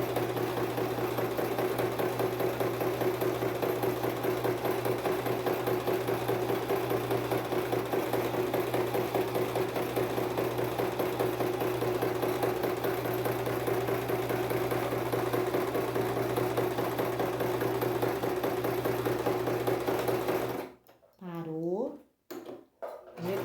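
A domestic sewing machine runs steadily for about twenty seconds during a beginner sewing lesson, a close, continuous mechanical hum with fine rapid rhythm, then stops abruptly, leaving brief quiet handling noises.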